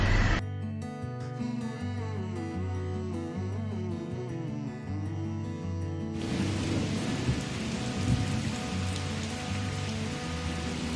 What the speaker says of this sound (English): Drizzle, rain lightly.